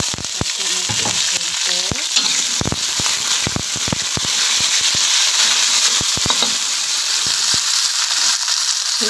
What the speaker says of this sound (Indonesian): cabai sama bawang putihnya dioseng dulu